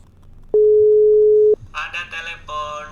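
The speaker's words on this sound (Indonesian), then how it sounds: "Ada telepon, diding diding diding diding, ayo angkat, ada telepon." A WhatsApp incoming call ringtone plays on a phone: one long, loud, steady electronic beep, then after a short gap a run of bright chiming tones in quick, bouncy succession, close and clear with no talk.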